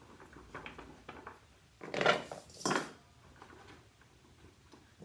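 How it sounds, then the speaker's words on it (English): Raw vegetables for a roast chicken dish tossed together in a bowl, giving a couple of quiet clattering knocks close by in an otherwise hushed kitchen. "Just throw all these together in a bowl."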